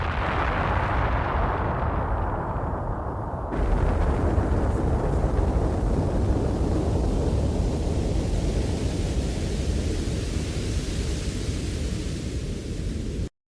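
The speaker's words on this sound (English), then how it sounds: "It sounded like a distant explosion and then like sort of this torrential rainfall that comes after it" A song intro opens on a low, distant explosion-like rumble that swells into a dense, steady roar like torrential rainfall, continuing loudly for many seconds without any voices.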